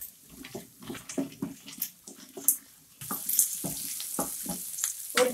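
Garlic sautéing in oil for tomato chutney: a bright sizzle mixed with irregular clattering stirs and scrapes in the pan, close and moderately loud, with no one speaking.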